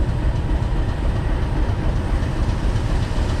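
Class 50 diesel locomotive on the Dean Forest Railway at Parkend, a steady, loud, close rumble of train running with dense low-end roar and faint rail clatter, continuous throughout without voices.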